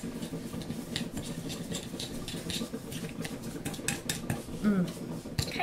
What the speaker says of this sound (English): That's it. And we stir.